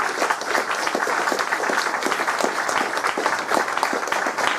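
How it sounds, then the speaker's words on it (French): An audience at an evening lecture gives a dense, loud round of applause for the speakers, many hands clapping in a sustained, even wash. "je vous demande surtout d'applaudir très très très fort nos conférenciers"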